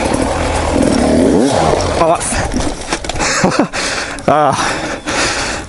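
A dirt bike engine revs hard near the rider, with sharp throttle blips and rising and falling pitch sweeps as the clutch pops over a log, loud and continuous, with breathing or voice mixed in.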